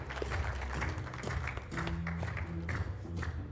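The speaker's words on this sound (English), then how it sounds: "Yeah, round of applause." Applause at a conference talk on Bitcoin mining finance, moderately loud clapping from a crowd with low hum and murmur beneath, continuous throughout.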